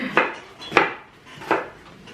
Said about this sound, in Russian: а соседушка нарезает лучок